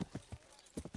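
A brief run of horse hoofbeats in the video game Kingdom Come Deliverance, several distinct clops in an uneven trotting rhythm, moderately close.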